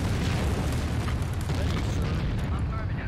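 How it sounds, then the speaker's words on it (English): Artillery shells strike in the Empire Earth strategy game, a dense rumbling barrage of booms and explosions that stays loud and continuous, with a voice talking over it. "Let's wait for our artillery to hit here"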